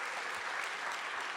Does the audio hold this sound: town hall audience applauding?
yes